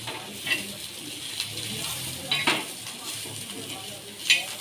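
A spice mixture sautéed in a kadhai, soft sizzling under scattered clinks and scrapes of a spoon against the pan, fairly quiet and close.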